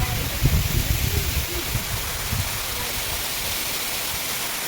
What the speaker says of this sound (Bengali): জলের ছিটা ছিটা ফোঁটাগুলি মানে ফোঁটা ফোঁটা যে হচ্ছে সেগুলো ছিটছে